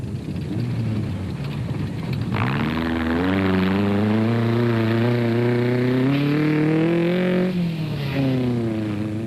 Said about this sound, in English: The 2-litre powered Class B vehicles really struggled in the thick sand.